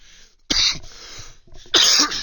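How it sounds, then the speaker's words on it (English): Two harsh, loud coughs close to the microphone, each a rough burst with a short rasping tail, separated by a brief pause. "that cough is nostalgic, I tell you"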